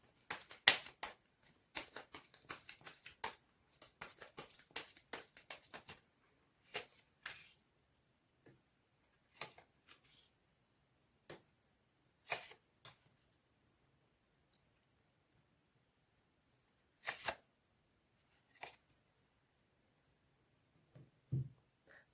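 Tarot cards being shuffled and handled for a reading, heard as quick papery riffles and clicks in a dense burst over the first six seconds, then sparse single flicks and taps separated by quiet gaps.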